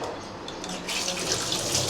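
Water pours into a pot of meat pieces for a village-style biryani, a steady rushing flow that grows louder and brighter halfway through, with no voices.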